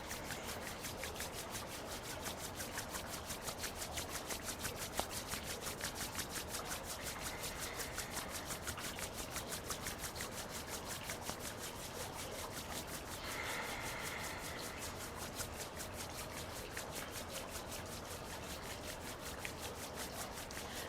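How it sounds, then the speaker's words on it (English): Palms rub together briskly during a seated yoga session, a steady close dry swishing friction that continues evenly without pause. "Rub your hands together."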